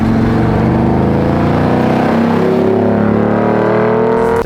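An LT1-powered custom C1 Chevy Corvette with a 2.5-inch MagnaFlow exhaust and long-tube headers revs up close and loud, its rumbling note climbing steadily in pitch over a few seconds.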